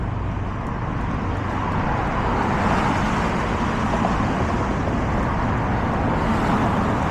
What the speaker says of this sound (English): Maybe it's the traffic noise.